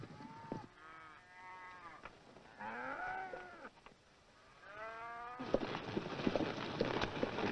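Cattle moo several times, long drawn-out calls one after another, followed by a noisier stretch of herd movement and background commotion.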